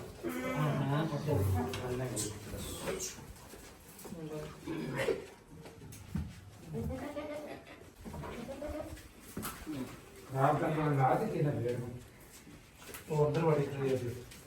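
Goats bleat repeatedly, a billy goat pestering a nanny goat that has been shut in, wavering calls coming close and loud in bursts across the stretch, with voices talking among them.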